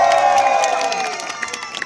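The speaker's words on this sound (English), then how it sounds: "Who's cheering for Johnny over on Green River here?" Crowd cheering and shouting, children's voices among them, at a lumberjack show log-chopping race on Grouse Mountain; loud excited whoops and yells with scattered clapping that fade slightly toward the end.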